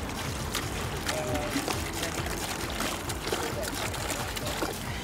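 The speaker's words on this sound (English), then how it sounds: "Next, we're pouring water into the bucket." Water pours into a bucket as a steady, close, rushing splash that fills the whole stretch, with people talking over it.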